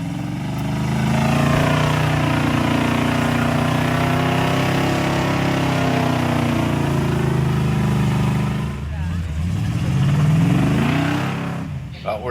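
A heavy wrecker truck's engine labors in deep mud, a loud, continuous low rumble that holds steady and then surges with rising revs near the end.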